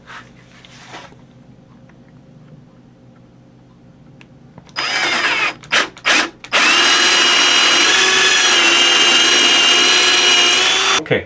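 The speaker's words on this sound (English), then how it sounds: "we have the pieces drilled on both" Power drill boring holes into pieces of wooden board: a few short bursts, then a long steady loud whine from about 6.5 seconds to the end, after quiet handling sounds.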